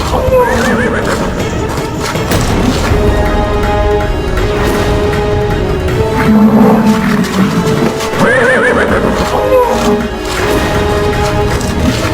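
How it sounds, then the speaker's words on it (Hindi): A horse neighs loudly in several shrill, wavering whinnies spaced across the scene, with hoof clip-clop and a crash or thud in between, close and prominent. "अश्व की ध्वनि इतनी तीव्रता से क्यों हिनहिना रही है ये?"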